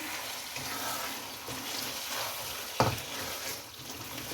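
Chicken with turnip, green chillies and sugar being stirred in a frying pan, a soft continuous sizzle with scraping stir strokes and one sharp clink of the spoon, no talking.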